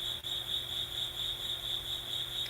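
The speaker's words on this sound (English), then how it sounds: "just as you might do with the sound of the cricket" A cricket trills steadily in a quiet setting, a continuous high, pulsing chirp that stays at an even, soft level throughout with no voices.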